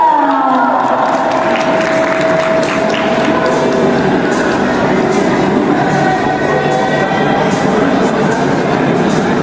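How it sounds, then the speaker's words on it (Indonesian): A lively audience at an information systems expo competition gives a contestant a loud, sustained burst of applause, a dense continuous wash of clapping with no breaks. "Tepuk tangan yang meriah untuk Kak Muhammad Rafi Munahisa."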